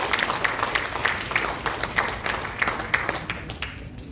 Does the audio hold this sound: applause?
yes